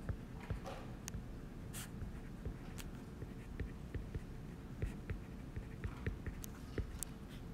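A lecturer writes units on the board during a chemistry lecture: soft, continuous scratchy strokes and light taps close by, steady and fairly quiet, with no talking.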